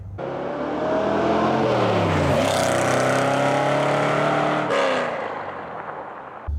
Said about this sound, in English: the exhaust just sounds angry, very angry